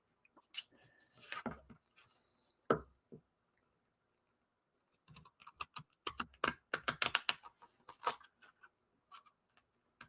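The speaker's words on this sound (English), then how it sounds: "They're not the best scissors in the world." Scissors snip paper in short, irregular bursts of crisp cuts, separated by a quiet pause, close and fairly faint, without talk.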